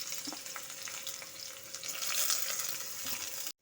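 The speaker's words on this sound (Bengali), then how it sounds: "বেগুনগুলোকে লাল লাল করে ভেজে নিয়েছি" Eggplant pieces fry in a little oil in a Bengali home kitchen, giving a soft continuous sizzle with faint clinks of the spatula, rising slightly in the second half before cutting off abruptly.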